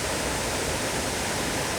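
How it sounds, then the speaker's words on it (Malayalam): Achankallu waterfall in Kasaragod, swollen by monsoon rain, gives a dense, unbroken roar of rushing water, steady and enveloping throughout with no voices. "അച്ചങ്കല്ല് വെള്ളച്ചാട്ടം"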